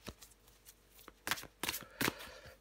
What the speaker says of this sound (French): je prends encore une carte pour vous, les Sagittaires